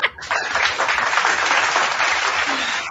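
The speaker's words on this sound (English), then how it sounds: "Then give yourself a round of applause." A crowd breaks into a burst of applause, dense steady clapping that starts abruptly and holds loud and close for a few seconds with no talk.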